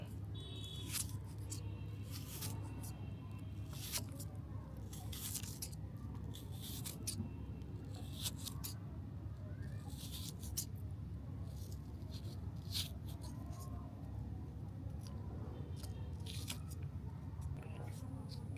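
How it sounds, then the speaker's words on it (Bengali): Onions are cut for a Bihari-style village egg curry, making a string of crisp, irregular blade strikes over a low, faint background. "পেঁয়াজগুলো সুন্দরভাবে কেটে নেব।"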